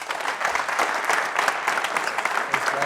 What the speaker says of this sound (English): just a huge round of applause for Coach Mike